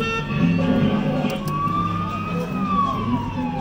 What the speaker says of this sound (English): We're sounding the sirens.